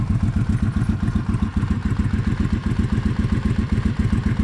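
A 1985 motorcycle engine running at idle close by, a loud, steady, lumpy thumping beat with rapid even pulses and slight mechanical clatter, no talking.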